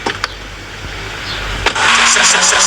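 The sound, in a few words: car engine starting in the GTA video game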